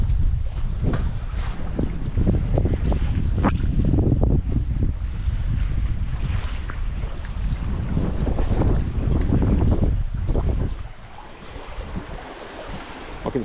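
Water slams and thuds beneath the bridge deck of a sailing catamaran at sea, hollow booming impacts like a tin can being struck, repeated irregularly over steady wind and wave wash, loud and close throughout.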